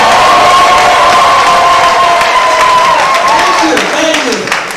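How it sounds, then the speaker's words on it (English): Graduation ceremony crowd at Mbarara University clapping and ululating, a loud, dense roar of applause with high trilling ululation riding over it, slowly fading toward the end. "Now, I want you to clap and wululet for someone else."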